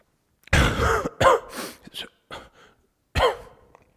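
A man coughs and clears his throat in a few harsh, close bursts with short pauses between them, starting loud and trailing off into smaller coughs.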